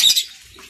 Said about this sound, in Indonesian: baby lovebird.